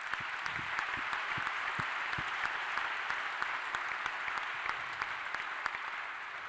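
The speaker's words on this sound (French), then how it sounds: "Je pense qu'on peut t'applaudir." A conference audience applauds steadily, a broad bed of many hands with a few sharper nearby claps standing out, continuing evenly without voices.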